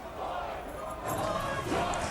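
A crowd of a few hundred protesters from a peaceful march fills the air with a continuous roar of many voices and shouts, some distance off.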